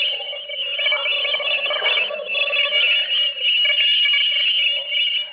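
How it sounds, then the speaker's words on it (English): An alien noise pattern from outer space, made as a radio drama sound effect: a steady, loud electronic warble of wavering tones that keeps going for the whole stretch, with no one talking over it. "I'm about to play a tape recording for you of the noise pattern that came from outer space"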